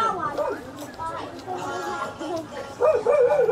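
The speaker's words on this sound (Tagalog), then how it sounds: "yung mga aso" Dogs yip and bark in short, uneven bursts along a rocky trail near the Upper Wawa Dam in Montalban, Rizal, mixed with people talking nearby, growing louder toward the end.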